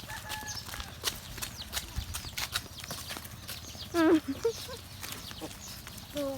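Cattle being herded on foot toward rice fields in rural northeastern Thailand, their hooves clopping in an irregular rhythm at close range, with chickens clucking and brief voices in the background.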